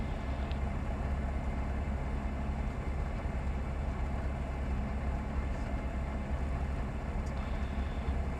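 A Bristell light aircraft engine idles at low RPM, a constant, fairly loud low rumble heard from inside the cockpit with no talking over it.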